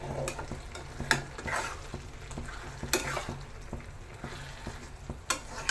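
Spices and ginger paste frying in a pan while being stirred, a steady close sizzle broken by repeated scraping strokes of a utensil against the pan, with no talking.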